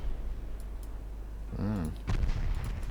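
Heavy cruiser 11-inch naval guns fire in the naval warfare game Ultimate Admiral Dreadnoughts, a couple of booming salvos with sharp clicks and a brief voice between them over steady low rumble.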